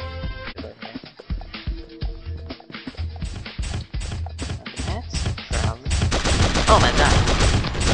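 Sniper rifle gunfire in the Pixel Gun video game, a run of sharp repeated shots building into dense, loud, continuous firing near the end, with game effects layered throughout.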